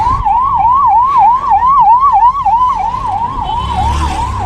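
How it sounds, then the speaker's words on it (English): An ambulance siren wails in a steady rising and falling pattern, loud and close, as it passes along a humid hill road in India's Nilgiris mountains, with faint traffic rumble beneath. "That's your local ambulance."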